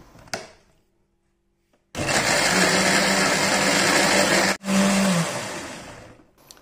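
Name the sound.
blender grinding spices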